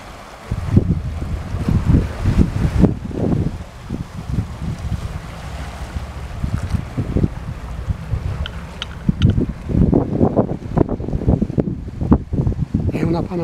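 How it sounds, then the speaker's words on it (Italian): Waves wash onto a shore with backwash and a low rumbling surge, accompanied by heavy wind buffeting against the microphone in repeated gusts. "Questo moto ondoso."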